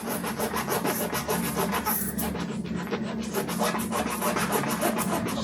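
A punctured tire is roughened around the hole with a rasp tool before patching, giving a fast, continuous scratchy rubbing close up with no pauses or speech.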